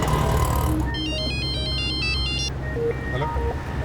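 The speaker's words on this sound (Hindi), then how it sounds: "मोनिशा फोन नहीं उठा रही है सर।" A mobile phone rings unanswered, a short electronic ringtone pattern repeating for under two seconds over a steady low rumble like a running vehicle.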